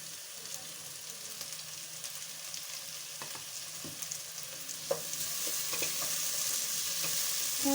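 Tomatoes frying with potato and eggplant sizzle in a pan while being stirred, a close, continuous hiss with occasional scraping taps of the spoon, and the sizzle grows louder toward the end.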